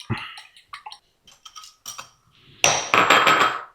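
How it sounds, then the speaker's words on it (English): Eggs with sugar and vanilla are being whisked in a bowl, giving a series of quick metallic clinks and taps that break into a rapid, louder scraping rattle in the final second, heard close. "I'm going to add my vanilla to my eggs. Give that a little whisk."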